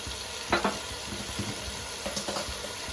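Chili powder and salt are stirred into a pot of spicy Nellore fish curry, with a few scraping strokes heard over a steady, soft sizzle throughout.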